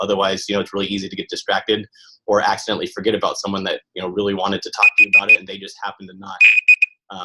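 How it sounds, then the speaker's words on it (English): An alarm goes off in two short bursts of high electronic beeping, heard faintly beneath a person talking steadily. "That was my alarm right there, so I'm kind of out of time."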